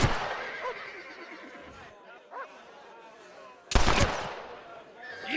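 Sharp gunshots in Red Dead Redemption aimed at a tossed hat, a single loud crack standing out near the end, with horse sounds and speech-like voices in the game mix around it.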